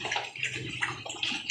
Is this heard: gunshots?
no